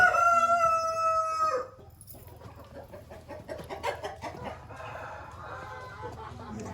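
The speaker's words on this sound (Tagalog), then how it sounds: "Ito naman yung mga Black Ostolorps nila." A rooster crows loudly up close, then Black Australorp chickens cluck and murmur at a lower level with faint voices in the background.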